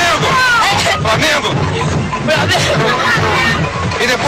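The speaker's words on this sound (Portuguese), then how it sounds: "a loucura da torcida do Flamengo nas arquibancadas de Tóquio" Flamengo supporters in the stands in Tokyo at the 1981 world club final, a dense loud roar of crowd voices and chanting close around, with rhythmic pulses running through the din.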